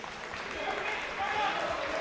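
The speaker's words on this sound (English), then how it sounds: "the crowds are clapping, clapping, clapping" Crowd applause at a varsity high school wrestling match, a steady wash of clapping from the stands continuing for about two seconds at moderate distance.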